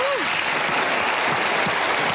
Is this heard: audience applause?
yes